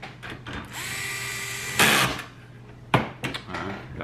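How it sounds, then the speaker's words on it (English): A power driver whirs to drive two screws into a Sharp MX-407FU1 fuser unit. A long buzzing run is followed by a brief, sharper burst, then clicks and handling noises. "put those two screws in."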